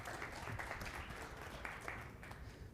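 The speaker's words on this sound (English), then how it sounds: "Round of applause, come on." Faint, distant applause from a conference audience, a brief continuous patter of clapping heard at low level.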